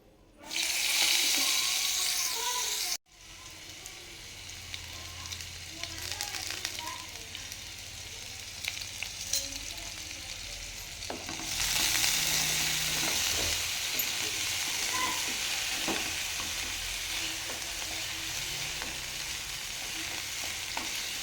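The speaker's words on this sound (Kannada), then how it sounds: "ಸಬ್ಬಕ್ಕಿ ಒಗ್ಗರಣೆ ಹಾಕತ್ತೀನಿ ಜೀರಿಗೆ ಅಷ್ಟು ಹಾಕಾಕತ್ತೀನಿ" Cumin seeds crackle and sizzle in hot oil as sabudana is tempered, a steady close frying hiss with spoon stirring and clinks, swelling louder after a brief pause, with faint talk in the background.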